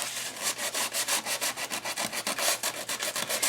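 Sandpaper rubbing back and forth over paper seams on a mixed media art page, a steady run of quick, even scratchy strokes, close and fairly loud, with no talking.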